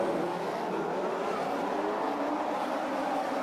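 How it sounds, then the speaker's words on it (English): AI race cars in a racing video game roar away together on the Britain circuit, a dense, steady blend of engines at moderate distance with no voices over them. "Oh, there go the AI cars."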